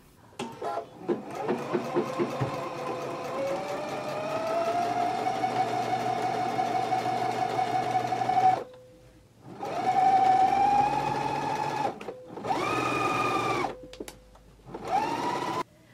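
A sewing machine runs a row of understitching along a pants front pocket seam allowance, its motor whirring in sustained bursts that rise and fall in speed, separated by short pauses, close and clear.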